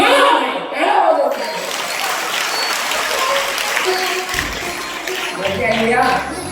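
An audience claps together at a Ram Katha religious discourse, a loud sustained round of applause that swells and then tapers off, with a few faint voices and chuckles beneath.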